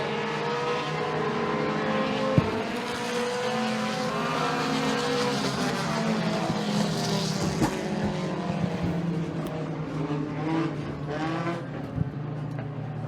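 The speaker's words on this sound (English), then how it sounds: "Off turn 4, Trevor Putt is going to score the victory in the feature for the Nittany Mini Mart Mini Stocks class at McKean County Raceway." Mini stock race cars roar around McKean County Raceway at the finish of the feature race, a loud continuous engine drone that rises and falls as cars pass, with no talk.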